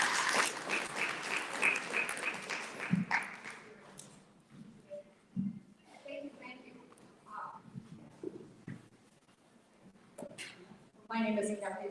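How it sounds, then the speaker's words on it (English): A curriculum presentation audience gives a short burst of applause at the start that fades within a few seconds, followed by scattered quieter sounds and a voice speaking near the end. "Give her a round of applause."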